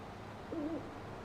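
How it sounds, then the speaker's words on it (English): Faint owl hooting in the Farming Simulator 19 game world on the West Texas map, a single soft hoot pair sitting low under steady background hiss. "I can hear them hooting."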